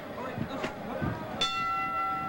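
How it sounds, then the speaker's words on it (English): A single ring of the opening bell at a 1976 Gulf Coast Wrestling match in Mobile, sounding about midway through and leaving a sustained metallic tone over steady arena murmur. "So there is the bell, and we're underway"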